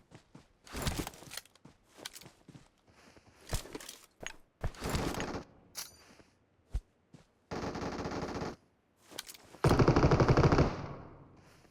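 Gunfire in a PUBG Mobile ranked match as players shoot at each other: rapid automatic bursts and single shots, loud and close, with footsteps between them and a long sustained burst near the end.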